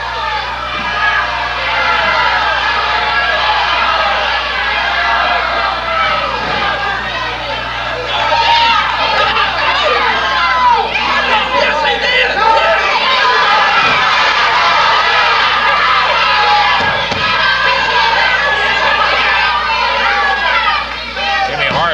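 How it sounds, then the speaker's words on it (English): A Memphis television wrestling crowd hollers and jeers at the referee over hair-pulling, a busy mix of shouting and raised voices, including children, sustained and fairly loud throughout. "the crowd's telling the referee he just did it back to him what Lawler did"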